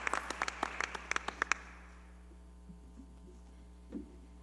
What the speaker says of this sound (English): Will everyone please join me in a round of applause for all our athletic trainers